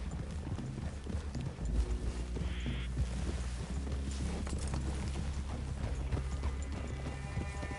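Horses clip-clop through a clearing in Red Dead Redemption 2, with steady hoofbeats over a dense in-game backdrop of ambience and music, loud and continuous, with creaks and no clear talk.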